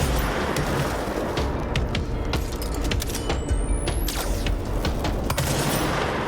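Gunfire in the game Control crackles in repeated sharp bursts over a dense, noisy background of action, the shots close and fairly loud across the whole stretch.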